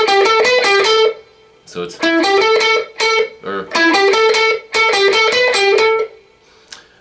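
Electric guitar playing a blues lick, three bursts of quick picked notes separated by short pauses, loud and close with slight distortion, a brief spoken word slipped into one gap.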